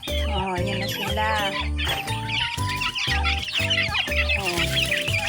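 Hungry farm chickens cluck noisily as they crowd around feed, with steady rhythmic music running underneath throughout.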